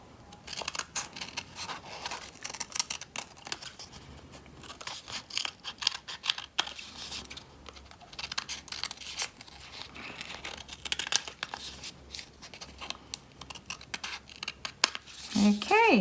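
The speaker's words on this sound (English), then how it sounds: "And then you can cut this to shape as well." Scissors snip and crunch through paper to cut a shape for a scarecrow corner bookmark craft, a steady run of close, crisp cuts and rustles lasting throughout.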